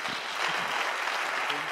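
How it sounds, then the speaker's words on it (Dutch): Audience applause in a hall at a climate case kick-off event in Ghent, a dense, steady clapping from a large crowd, close and continuous throughout. "Dames en heren, uw applaus voor Roger Cox"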